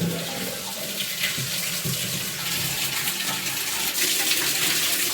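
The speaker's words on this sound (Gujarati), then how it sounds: "અમારે ડેઈલી મોટરથી પાણી ભરવાનું હોય." Motor-pumped water pours from a household tap as a container fills, a steady, close, continuous gushing with no talk.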